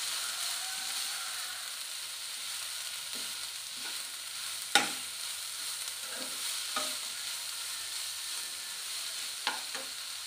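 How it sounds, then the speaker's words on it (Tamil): A spoon stirs drumstick flower fry with grated coconut in a pan, producing a steady close sizzle with a few sharp clinks and scrapes of the utensil against the pan. "தேங்காய் ஆட் பண்ணி நல்லா மிக்ஸ் பண்ணி விடலாம்."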